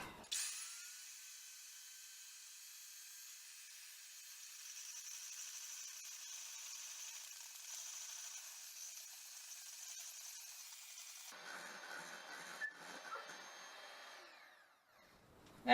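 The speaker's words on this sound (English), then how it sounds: "Now beat the egg whites until they're pretty fluffy and stiff." An electric hand beater whipping egg whites in a bowl runs as a steady, fairly loud whine for about eleven seconds, then drops to a lower, rougher hum before cutting off.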